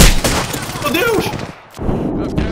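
Rapid gunfire from weapons in the video game Apex Legends, bursts of shots crackling under excited talk, with a short lull before the shooting resumes.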